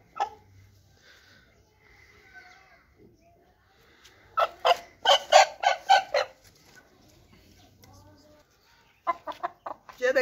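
Chickens in a breeding pen, a burst of close clucking calls in quick succession at mid-clip and again near the end, with quiet background sounds between.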